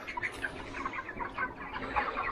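Bright red poultry chickens on a farm cluck softly in a steady scatter of short calls, faint and fairly close, with no talk over them.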